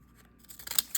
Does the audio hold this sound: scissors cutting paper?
yes